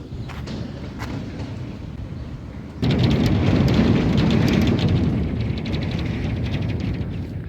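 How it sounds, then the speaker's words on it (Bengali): Rumbling rattle of a bridge in rural Bangaon as motorbikes cross it, a steady low roar that swells louder after a few seconds and continues with faint clatter. "মানে একটা ঘর ঘর ঘর ঘর করে আওয়াজ হচ্ছে ব্রিজটায়"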